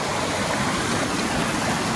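Steady broadband rush of river water flowing past what may be a beaver dam or washed-down foundations near a Montana ghost town, continuous and moderately close with no voices.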